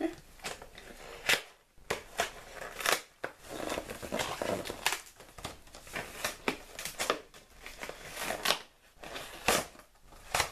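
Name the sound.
unwrapping a taped parcel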